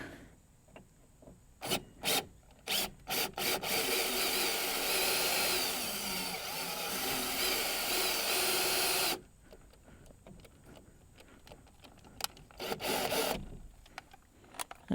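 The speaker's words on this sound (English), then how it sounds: "we're going to go to the final bit, which is 11/64" An 11/64 drill bit bores out a rivet on an inside door handle of an OBS GM Chevy truck, with a sustained grinding whir of several seconds framed by short clicks and handling knocks.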